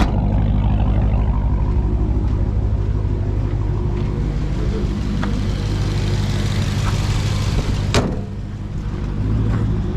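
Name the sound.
Hellcat car driving off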